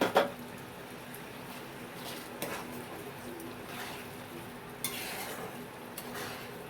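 Tamarind pulp stirred into a chutney in a pan, with a faint steady sizzle under occasional soft scraping strokes and light utensil knocks, quiet and close with no talking.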